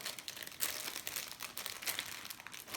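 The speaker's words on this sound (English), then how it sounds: "I'm going to carefully take this out of the bag." Crinkly plastic bag rustled as an item is carefully pulled out, bursts of close crackling and crumpling repeating in uneven handling rhythm.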